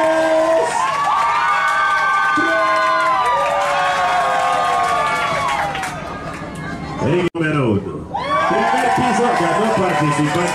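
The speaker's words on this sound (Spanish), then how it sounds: "Así que aplauden lo más fuerte que puedan. Griten lo más fuerte que puedan." A crowd aboard the Triton yacht off San Andrés island cheers and shouts at full volume during an onboard party game, a loud sustained roar of many voices with whoops and high cries that dips briefly before surging again.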